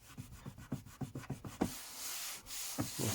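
Rubbing and scrubbing the casing of a Sony MiniDisc player: a series of quick rhythmic strokes, then a steady hiss of wiping, close and soft, with no talking.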